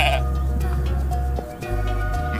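Sheep on a German manor-house estate bleat several times in quick succession, close by, over a constant low rumble.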